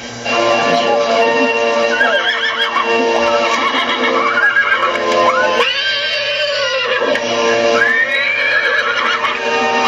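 Horses neigh and whinny repeatedly at an outdoor wedding by a pond, where the couple marries on horseback; loud, drawn-out calls rise and fall over a steady background of music and ambience.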